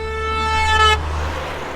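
A single steady car horn blast, roughly one second long and fairly loud, cutting off and leaving low traffic rumble behind.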